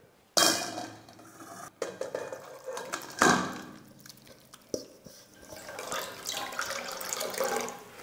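Salted water is poured through a kitchen strainer, giving splashing trickles and drips with a few clinks of utensils, in bursts over several seconds.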